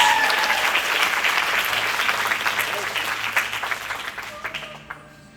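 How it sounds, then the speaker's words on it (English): Award winners at a sales meeting get a round of applause from the audience, a dense, sustained wash of clapping that slowly thins to scattered claps, with some voices mixed in. "Let's give them a round of applause."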